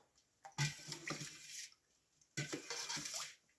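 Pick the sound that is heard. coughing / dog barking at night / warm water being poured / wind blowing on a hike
warm water being poured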